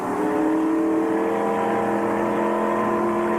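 Stock race car engines roar loudly and steadily as the field charges out of turn four and down the Big D section of the 1996 Miller 400 track, a dense multi-car drone with no talk over it.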